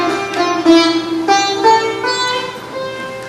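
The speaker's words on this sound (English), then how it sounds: "Rag Kamaj has an ascending which sounds like this" Raga Kamaj ascends on a sustained melodic instrument, one note after another, over a steady low drone, clear and alone.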